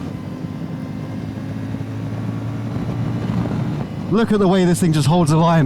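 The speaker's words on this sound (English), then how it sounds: "I'm really enjoying riding this bike." A CFMOTO 450MT adventure motorcycle hums with a steady engine drone as it is ridden around a corner, then someone speaks loudly over the engine in the final seconds.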